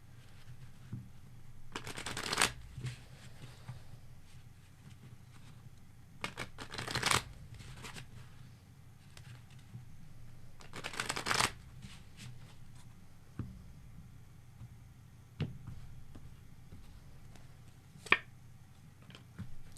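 A true crime card deck is shuffled in several short riffle bursts, each lasting about half a second, with quieter handling and card taps in the gaps, close to the mic and fairly soft, and no talking.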